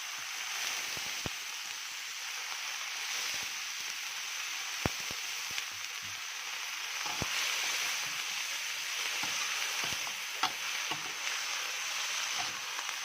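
Water mimosa stir-fried with garlic in a pan gives off a steady, fairly quiet hiss of frying, broken by a few sharp clicks and pops across the whole stretch, with no one talking.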